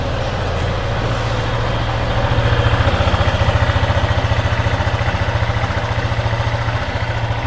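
After a 6000 km oil change, a motorcycle engine idles close by with a steady, rapid chugging pulse that grows a little louder partway through, with no talking.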